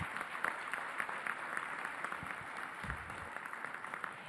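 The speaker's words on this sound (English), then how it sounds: "Please, you all, give these members a big round of applause." A crowd of Republican National Committee members at a meeting in Atlanta applauds committee members, a steady wash of many hands clapping at moderate distance without pause.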